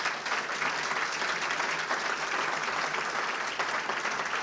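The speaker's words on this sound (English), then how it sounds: "Give them a big round of applause." Audience applause at a regional public address by members of Congress, a broad, even wash of many hands clapping that continues at a steady level from start to finish.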